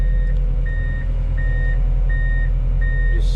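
Semi truck hauling a D51 bulldozer backing down ramps, with five evenly spaced reversing beeps over a loud low diesel drone and a brief rattle at the end.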